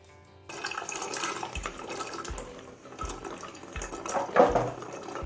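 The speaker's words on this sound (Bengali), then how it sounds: "সমস্ত রাজমাটা প্রেসার কুকারের মধ্যে ঢেলে নিলাম।" Soaked kidney beans (rajma) tipped with their water into a pressure cooker, a continuous wet splashing and pouring rush with a few thuds and clatters, fairly loud and close, with no talking.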